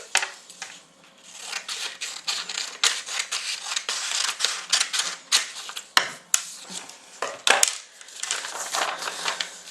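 Scissors snip through material for lace-up cosplay arm armour, a rapid series of close, crisp cuts and crunches with brief pauses.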